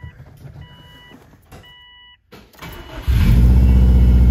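A Subaru engine fitted with an Evo front end fires for the first time: a few faint beeps and starter clicks, a brief pause, then the engine cranks and catches into a loud, rough, steady idle close by.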